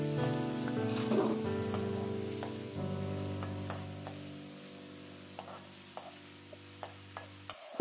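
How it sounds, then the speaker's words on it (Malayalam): Chopped onion and a sprig of curry leaves sauté in a pan, a soft low sizzle with stirring scrapes that fades toward a series of light taps and a final louder knock. "ഇതിൻ്റെ കൂടെ തന്നെ ഒരു തണ്ട് കറിവേപ്പിലയും കൂടെ ഒന്ന് ചേർത്ത് നല്ലതുപോലെ ഒന്ന് വഴറ്റിയെടുക്കാം."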